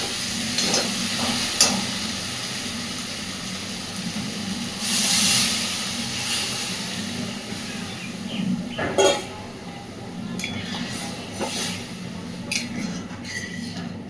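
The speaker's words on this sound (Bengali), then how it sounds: "খুব সুন্দর করে ঝোল ফুটে গেছে" Soybean and lentil curry gravy bubbling in a pot after water has been added, giving a continuous hissing simmer with occasional louder pops and spoon clinks.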